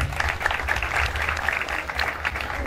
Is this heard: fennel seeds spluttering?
no